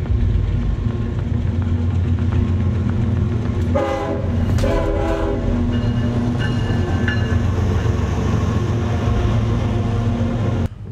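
Freight train passing close by on a railway in Torreón, a steady loud rumble and rolling clatter throughout, with horn-like tonal blasts sounding briefly midway.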